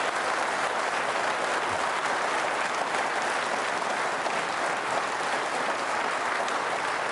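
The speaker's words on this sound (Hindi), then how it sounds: "जोरदार तालियां।" A large audience of trainee state services officers at a quiz show gives loud, sustained applause, a thick, even roar of clapping that carries on unbroken, with no one speaking.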